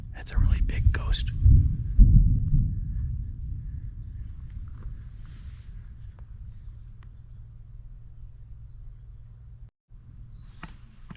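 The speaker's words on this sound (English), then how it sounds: "Oh, thunder." Thunder rolls in as a deep, loud rumble that slowly fades over several seconds, with a few faint voices and sharp clicks early on, outdoors near the old buildings of Fort Laramie in Wyoming.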